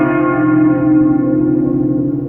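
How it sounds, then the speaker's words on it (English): A single deep church bell tone rings loud and sustained from a town square, its rich hum slowly fading as it resonates. "the bell from the town square is a sound of joy"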